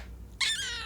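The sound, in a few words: cat meowing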